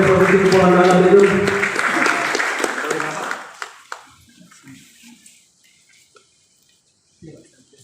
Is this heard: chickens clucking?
no